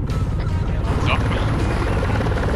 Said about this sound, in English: Oh, there's a helicopter.